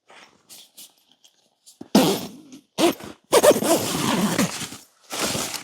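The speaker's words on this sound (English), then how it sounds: "And just zipping it on down." A zipper on a Freespirit Recreation Car Connect annex for a 4XL or 6XL hub tent is pulled in several bursts of rasping, scraping strokes with short pauses between them, close and fairly loud, with no speech.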